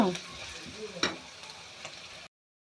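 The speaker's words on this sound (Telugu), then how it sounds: "బాగా వేగనివ్వాలి ఫ్రెండ్స్. దీనికి కొద్దిగా ఆయిల్ ఎక్కువే పడుతుంది ఫ్రెండ్స్." Onions for an egg fry sizzle in plenty of oil in a pan, a close steady crackle with a sharp clink of a utensil partway through before it cuts off.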